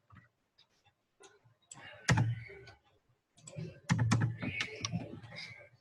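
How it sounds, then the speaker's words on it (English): Brisk clicking of computer keyboard keys as code is typed during a programming class, in irregular clustered bursts with short pauses, close and fairly quiet, with no talk over it. "Let me type it."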